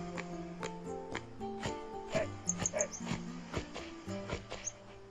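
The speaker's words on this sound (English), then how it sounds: "Wait, there's a doggy!" Dog in the Final Fantasy 10 video game, heard in a village setting: a rapid run of short, quiet barks and yips in an irregular rhythm over soft background music, with no voices.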